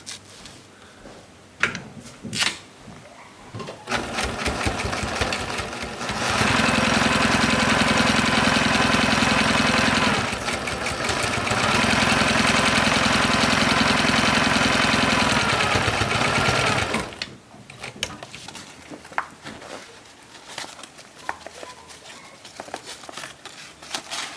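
Sewing machine stitching sail UV sacrificial strip pieces for a genoa or jib, a steady loud motor whir and rapid needle chatter in long runs, with quieter handling rustles before and after.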